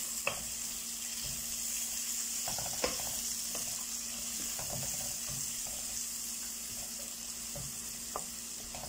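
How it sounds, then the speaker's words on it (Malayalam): Garlic, green chili, ginger and curry leaves sautéing in hot oil in a pan for a dates pickle, a steady close sizzle with occasional stirring clicks, no voices. "നമ്മുടെ വെളുത്തുള്ളി, പച്ചമുളക്, ഇഞ്ചി എല്ലാം നന്നായി വഴറ്റി നല്ല ബ്രൗണിഷ് കളർ ആകുന്നുണ്ട്."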